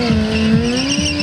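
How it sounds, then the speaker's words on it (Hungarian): Motorcycle burnout during a stunt riding show, the rear tire spinning and squealing in a sustained, steady, loud screech with a rising engine tone underneath, no voices. "Jobbra is megy az a gumi égetés!"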